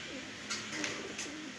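A golden pigeon coos softly in a low, rolling murmur, faint and close, with a few brief brighter noises over it and no clear speech.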